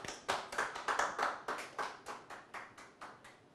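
A studio audience claps to welcome a singer onto a television stage, about a dozen distinct, loud, close claps at a steady rhythm that gradually fade in strength, with no voices over them.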